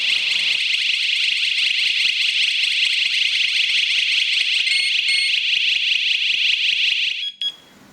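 A Chuango WS-105 wireless strobe siren alarm wails steadily at close range, a shrill continuous high-pitched electronic tone that cuts off abruptly near the end, followed by a couple of brief chirps.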